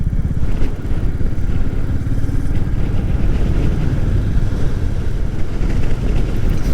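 A motorcycle ridden around the end of an RAF airfield runway, its engine a steady, loud, close drone with constant rumble and wind noise throughout, no voices.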